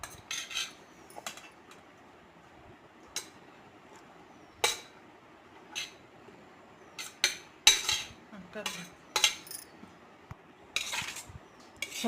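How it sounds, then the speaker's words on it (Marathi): A spoon scraping and clinking against a bowl while chopped tomato, cucumber and onion are mixed together for a sandwich, intermittent sharp metallic taps and stirring scrapes over a quiet background, growing busier toward the end. "सर्व आपण एकत्र मिक्स करून घेऊ."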